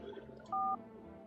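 Telephone keypad tones from a phone in a video game, a single steady two-tone beep lasting about a quarter second, clear over a low background hum.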